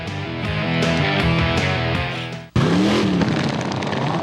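Racing lawnmower engines at a lawnmower race in Delaware, Ohio, buzzing loudly together in a continuous droning whine, then cutting abruptly to a second roaring engine pass with a rising and falling pitch.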